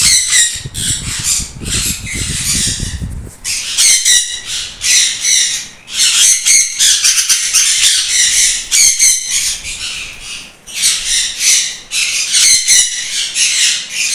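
Sun conure parrots give loud, shrill squawks in repeated harsh bursts close by, one after another with brief gaps, over a low rumble early on.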